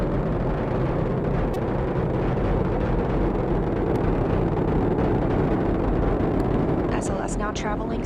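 The NASA SLS rocket's engines roar during the Artemis 1 launch as a continuous, dense, distant rumble. A voice talks over the roar throughout.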